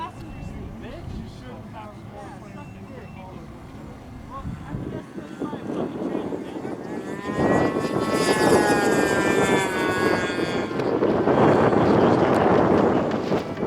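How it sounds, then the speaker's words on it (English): A small nitro-powered high-wing model airplane engine buzzes, growing louder and higher-pitched as it passes close during a timed flight competition, with wind noise and people talking underneath. "He's flying a nitro-powered high-wing plane."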